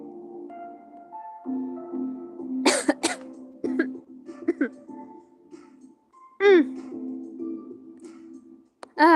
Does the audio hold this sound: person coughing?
yes